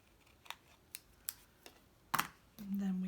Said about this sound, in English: just take your scissors and trim it